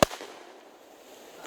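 A 10mm handgun fired during an outdoor bear attack drill, one sharp loud close shot followed by a fading echo and quiet background.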